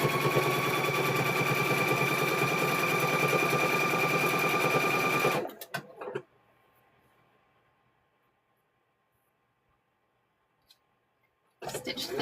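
A sewing machine stitches quilt squares, a steady, loud, rapid mechanical whir with a constant hum for several seconds, then stops abruptly into near silence before briefly starting again at the end.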